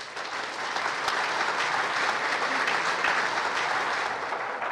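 Steady audience applause fills the room after a speaker's introduction at an evening talk, a dense, even wash of clapping holding at full strength for several seconds before easing slightly at the end.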